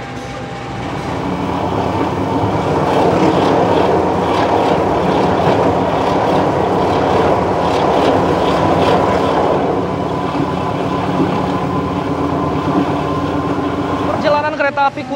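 Kutojaya Selatan passenger train rolling on the rails, a loud steady rumble with continuous wheel and carriage noise heard from on board, a brief squeal near the end.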